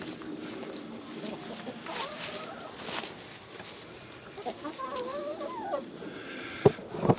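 Scattered soft clucks and short chirping calls from a few chickens, moderately near, with rustling and a couple of sharp knocks toward the end.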